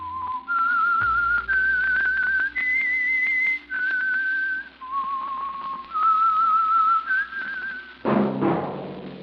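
Whistled theme signal of The Whistler radio program, a lone clear melody of sustained, sliding notes in a short eerie phrase, followed at the end by a brief burst of orchestral or noisy sound.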